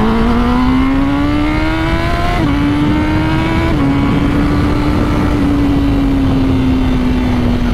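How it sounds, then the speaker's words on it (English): A Honda CBR1000RR-R Fireblade SP four-cylinder motorcycle screams at high revs on an open road, its loud, smooth wail climbing steadily and dipping briefly at two gear changes before holding a sustained howl. "The sound of this engine is just epic. I love four-cylinder bikes anyway."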